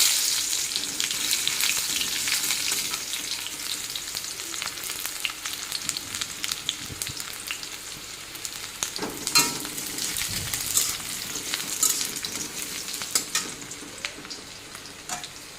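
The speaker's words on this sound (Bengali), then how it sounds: "এখন দিয়ে দিই রসুন কুচি দিয়ে দিচ্ছি পেঁয়াজ কুচি" Chopped garlic and onion fry in a hot panch phoron tempering, giving a continuous, fairly quiet sizzle. Scraping stirs and brief crackles break in here and there.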